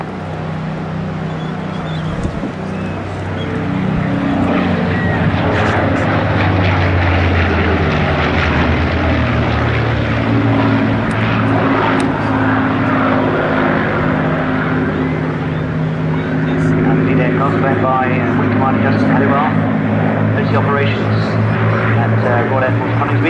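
Pair of vintage RAF Battle of Britain Memorial Flight propeller aircraft engines droning loudly and steadily at an air show on the coast, a commentator talking over the continuous roar throughout.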